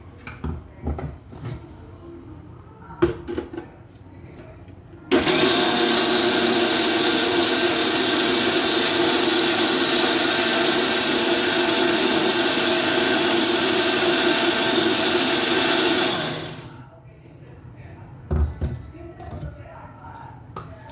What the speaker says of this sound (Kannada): ಇದಕ್ಕೆ ಸ್ವಲ್ಪ ನೀರು ಹಾಕಿ ಮಿಕ್ಸಿ ಮಾಡ್ತೀನಿ